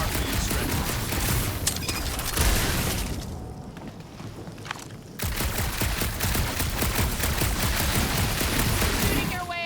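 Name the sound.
gunfire from the video game Guardians of the Galaxy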